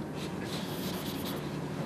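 Chalk or marker writing on a board in a mathematics lecture, faint scratchy strokes in quick succession for under two seconds, with no talking.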